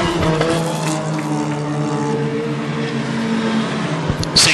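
Hornet-class race cars roar around an oval track at Ogilvie Raceway, engines droning at sustained pitch as the pack passes close by, with a brief burst of tire noise near the end.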